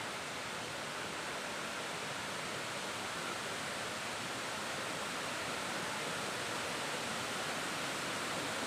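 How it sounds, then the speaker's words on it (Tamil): Panchalinga waterfall at Thirumoorthy hills near Pollachi, a steady, loud roar of falling water that stays unbroken and even throughout, with no voices. "அருவி விழுற சத்தம் இங்கே நல்லா கேட்குதுங்க"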